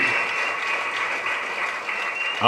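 An audience at a Tamil birthday tribute event for actor Sasikumar claps steadily and densely, a continuous wash of applause with a brief louder swell at the very end.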